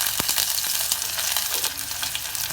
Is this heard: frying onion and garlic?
yes